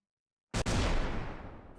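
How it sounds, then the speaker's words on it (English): An explosion sound effect bursts in after half a second of silence, with a sharp initial crack and then a loud, rumbling blast that slowly decays and fades over more than a second, with no voices. "Explosion sound."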